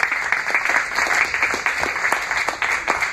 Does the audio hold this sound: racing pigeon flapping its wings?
no